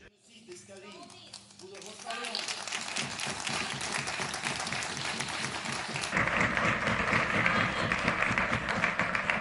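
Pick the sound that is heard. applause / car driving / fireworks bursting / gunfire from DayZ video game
applause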